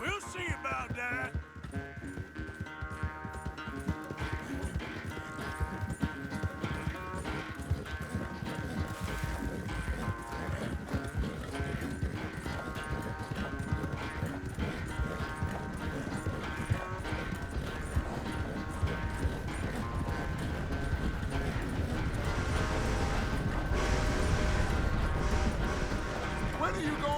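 Steady rhythmic clip-clop of horse hooves in Red Dead Redemption 2, continuing throughout under game music and characters' talk, with brief clattering accents.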